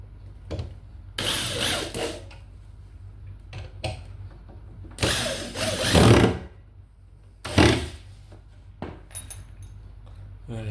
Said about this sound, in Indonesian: Habis itu kita kencangkan dengan bor